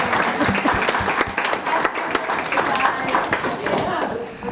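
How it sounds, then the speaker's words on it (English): Guests at a farm dinner clap for a couple's 48th wedding anniversary, a close, uneven round of applause with voices chattering underneath. "I'd also like to give a round of applause to the 48th anniversary of my parents over here"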